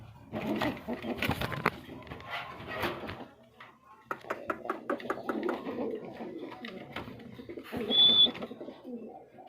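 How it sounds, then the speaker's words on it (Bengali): Pigeons cooing close by in repeated low throaty bursts, with pauses between calls and a brief higher chirp near the end. "এখানে কিন্তু আরো এক জোড়া কবুতর দেখতে পাচ্ছেন"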